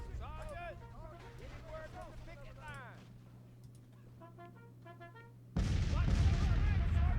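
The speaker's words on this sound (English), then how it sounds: "Our guns are still firing, but I mean, I doubt they're effective." Civil War guns firing in Grand Tactician, the Battle of Olustee, Florida, 1864: quiet tonal sounds and voice-like calls give way to an abrupt, loud burst of massed gunfire near the end.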